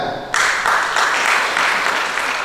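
Wedding guests break into loud, sustained applause at a church ceremony for Ardiles Tamba and Olivia Situmorang, the clapping starting abruptly and continuing steadily.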